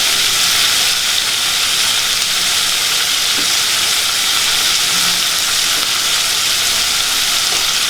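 Onions sauté in a pan for a vallarai chutney, giving off a steady, loud sizzling hiss that holds constant throughout with no pauses and no voices.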